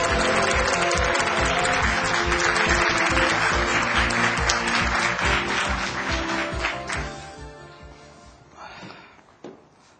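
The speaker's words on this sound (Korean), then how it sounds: "큰 박수로 맞이해 주십시오" Loud, sustained applause from a large lecture audience welcoming a speaker, steady at first and then tapering off into scattered claps before fading out.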